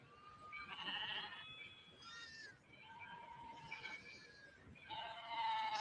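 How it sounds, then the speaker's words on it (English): A goat in a film scene lets out three drawn-out, wavering bleats one after another, moderately loud over a faint background hum. "What is it? A Judas goat."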